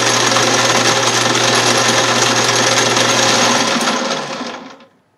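A rebuilt quick change gearbox on a restored Craftsman Atlas 12-inch lathe runs loud and steady with a constant mechanical whine and gear rattle, then winds down and stops near the end.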